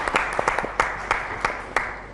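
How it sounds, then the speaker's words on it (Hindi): Audience applause at a naat recitation competition during Ramadan, a series of sharp scattered claps in brief bursts of about seven or eight, fairly close and moderately loud. "तालियां होनी चाहिए इस चीज़ के ऊपर।"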